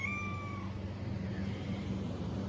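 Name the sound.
cat meowing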